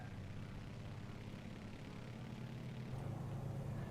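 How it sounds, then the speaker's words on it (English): Aircraft engines in MS Flight Simulator spooling up to full throttle for takeoff, a faint, steady drone whose low tone rises and strengthens near the end. "We're going to move our throttles here to full."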